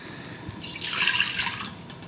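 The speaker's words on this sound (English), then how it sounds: "First, I'm putting in my trivet and 1 cup of water." Water poured into a pressure cooker fitted with a trivet, a soft, close splashing trickle that swells for about a second and then eases off, with no voices.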